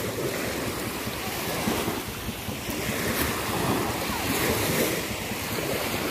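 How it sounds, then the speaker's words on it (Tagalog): A calm sea's waves wash steadily near a boat, a continuous broadband surf hiss with gentle swells, mixed with wind buffeting the microphone. "Kalmadong kalmado ang dagat."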